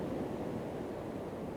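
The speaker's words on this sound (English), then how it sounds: "There are some corking flipping waves coming in tonight." Evening ocean waves roll in and break on the shore at a coastal photography spot, a steady broad wash of surf with a low rumble, heard alone without voices.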